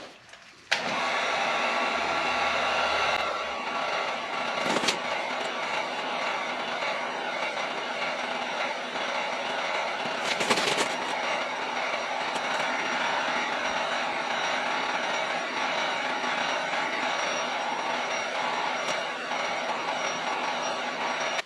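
A heat gun warms the fender of a BMW E36 M3 before rolling, blowing with a steady close whir and hiss that starts abruptly and holds at an even level, broken by a couple of brief bumps.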